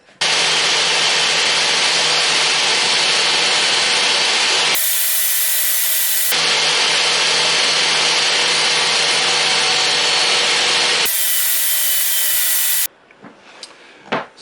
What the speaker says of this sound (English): I'll cut that on the table saw.